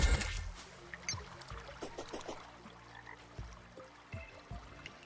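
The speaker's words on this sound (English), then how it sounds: "I hear the frog." Frog croaking in a survival video game, faint rhythmic croaks repeating over a quiet watery background with no talking.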